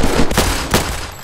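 Gunfire in the video game Unturned during a police academy roleplay: a few loud, close shots in quick succession over a dense, noisy game background.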